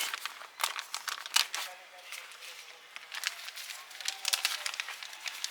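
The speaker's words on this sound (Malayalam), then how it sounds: "ഇനി നമ്മളിതിൻ്റെ കവറ് പൊട്ടിച്ച്" Crinkly plastic rustles and tears in a series of sharp, close crackling bursts, some louder than others, over a quiet background.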